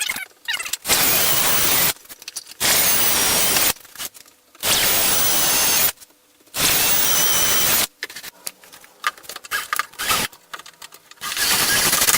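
A power drill whirs in several loud bursts of a few seconds each through a jig template into kitchen cabinet doors for handles, separated by short pauses, with lighter mechanical rattling toward the end.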